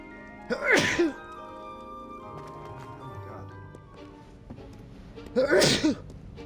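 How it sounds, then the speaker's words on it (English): Two loud sneezes from a person, one near the start and another near the end, with quiet footsteps and faint ambient noise between them, set in a game scene. "Man, these sneezes are coming out of nowhere."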